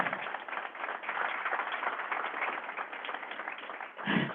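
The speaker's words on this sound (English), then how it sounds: "Maybe a round of applause to welcome them." A morning panel audience claps to welcome the speakers at a Canadian workplace diversity event, a steady, fairly close wash of applause lasting about four seconds with no talk over it.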